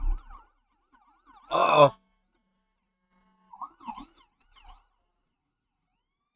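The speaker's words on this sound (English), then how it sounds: "Oh, sirens are coming." Emergency vehicle sirens approach, heard as faint wavering wails that come and go, broken by a brief loud vocal interjection.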